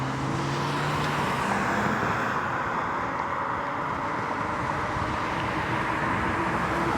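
Cars pass on a road ridden by an e-bike, a steady loud rush of traffic and engine drone that stays close and continuous throughout.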